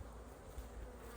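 Dense, steady buzzing of honeybees inside an open hive during a March inspection, a close, continuous drone with no talking.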